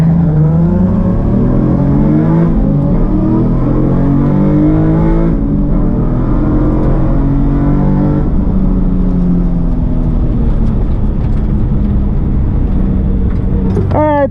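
Two Nissan 350Z cars drag racing, one stock and one with 4.08 gearing, their engines roaring loud and steady throughout with rising revs and gear changes, close by and continuous.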